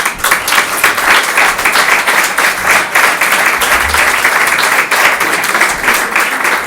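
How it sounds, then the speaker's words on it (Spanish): Loud, close applause from a crowd at a political rally in Utrera, Seville, a thick continuous roar of clapping that stays strong throughout with no speech over it. "lo bueno de los aplausos es que nos deja beber agua"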